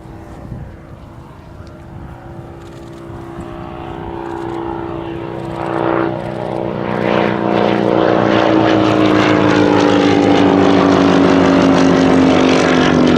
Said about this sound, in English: So this aeroplane very much representing the last of a very important line of RAF training aircraft.